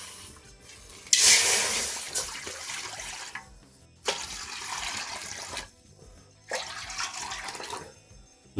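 Water poured from a cup into a cooking pan for rava kesari, a semolina sweet, in three separate close splashing pours, each a couple of seconds long with brief pauses between, and no talking.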